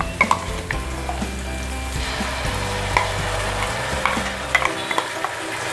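Chicken curry frying in a pan with turmeric and ginger-garlic paste: a steady sizzle with stirring scrapes and a few light taps from a utensil, the hiss easing off near the end.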